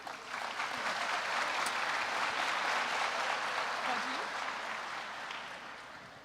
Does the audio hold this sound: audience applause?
yes